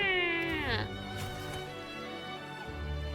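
A cat companion in a video game meows, with rising and falling tonal cries in the first second and later softer calls, heard under game music and a talking voice.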